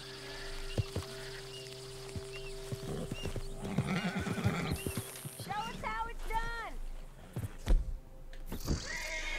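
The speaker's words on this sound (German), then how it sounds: "Du musst nervöse Pferde erst beruhigen, bevor du dich ihnen nähern kannst." A nervous horse in the video game Red Dead Redemption 2 neighs in rising and falling whinnies over the clip-clop of its hooves, with snorts and a voice speaking throughout.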